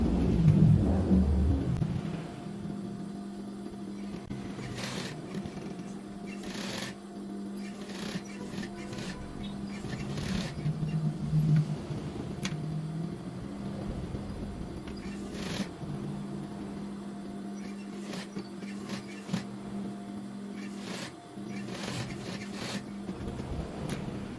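Sewing machine stitching the shoulder seam of a garment, a steady mechanical hum with repeated clattering ticks running throughout, moderately close with no talk over it.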